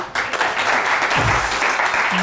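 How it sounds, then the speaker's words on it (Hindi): Studio audience on a weekend talk show bursts into brisk, dense applause that starts abruptly and holds steady, with a brief voice near the end. "तालियां बहुत सारी"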